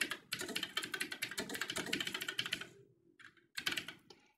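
Rapid typing on a computer keyboard, a dense run of close, crisp key clicks for about two and a half seconds, then a pause and a shorter final burst of keystrokes.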